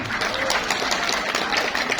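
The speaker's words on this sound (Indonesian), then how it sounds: "Tepuk tangan buat guru-guru kita semua." An audience at a vocational high school graduation applauds its teachers, a steady dense wash of clapping that holds at an even level throughout.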